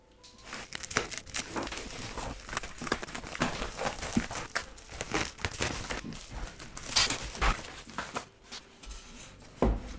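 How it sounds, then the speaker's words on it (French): Sped-up unboxing of an iPhone 6 package, a rapid, close jumble of plastic and cardboard crinkling, tearing and handling clicks in uneven bursts, with no voices. "je vais procéder au déballage en vitesse accélérée."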